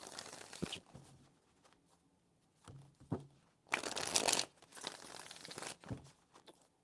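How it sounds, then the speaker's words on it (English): A deck of tarot cards shuffled close up, with loud papery riffles and bridge-like cascades in several bursts, the longest and fullest near the middle, separated by short lulls. "4 shuffles."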